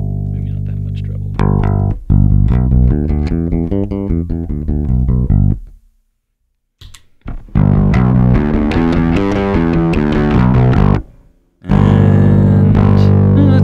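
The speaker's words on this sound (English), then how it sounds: "Sounds like with lots of distortion. It sounds more distorted." An electric guitar played through a Hardwire SC-1 valve distortion pedal gives heavily distorted chords and riffs in loud, thick bursts separated by brief silences, close and alone.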